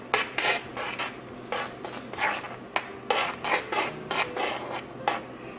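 Spoon scraping and stirring vegan quinoa chili in a metal pot on the stove, repeated rasping strokes in an uneven rhythm, close and fairly quiet with no talking.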